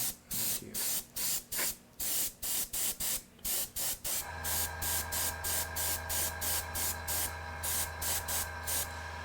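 An aerosol can sprays paint onto a model in rapid short bursts, loud hissing pulses that then give way to a steady rhythmic pulsing hiss over a low motor hum, with no talk.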